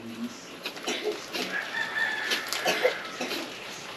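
A rooster crowing among clucking chickens: short, busy calls overlap across a few seconds, fairly close and moderately loud, with no talk over them.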